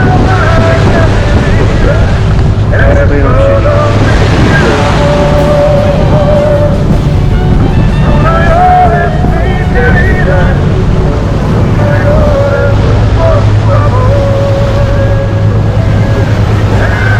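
Steady wind buffets the microphone with a low rumble throughout, while a person talks over it.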